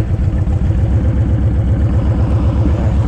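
A Honda Fury motorcycle fitted with Cobra Speedster pipes rumbles up close, its deep exhaust throbbing in a steady, rapid pulse throughout, loud and unbroken, with no voices.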